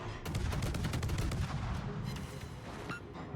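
Warship guns on the Atlanta cruiser in World of Warships fire in a dense, rapid barrage of loud booming shots that roll into each other, with repeated volleys fading toward the end.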